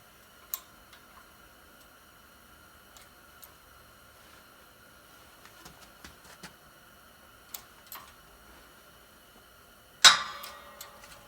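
Sparse clicks and faint ticks over a quiet background, then a sudden sharp crack near the end as a Dodge Neon front wheel bearing breaks loose under a press, with brief rattling after.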